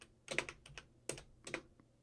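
Keys clatter on a computer keyboard in short bursts of several quick strokes with brief pauses, close and fairly quiet, with no voices.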